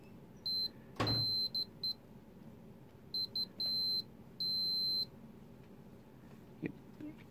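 An electronic continuity tester, checking a Virtual Boy for a solder bridge, gives high, thin beeps in short and longer bursts, starting and stopping irregularly, with a single thump near the start.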